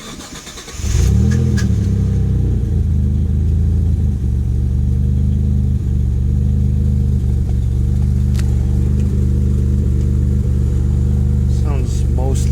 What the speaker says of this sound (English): about to do another cold start here